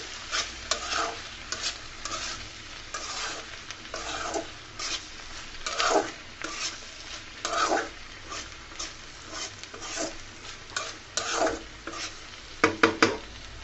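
Scrambled egg and onion stalks stirred in a frying pan, repeated spatula scrapes in an uneven rhythm over a gentle sizzle, close by, ending in a quick cluster of sharper clinks, with no voices.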